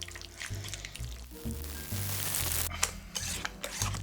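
White ganache stirred together with cookie crumbs in a bowl, soft wet squelching and scraping strokes in an uneven rhythm, close and moderately quiet.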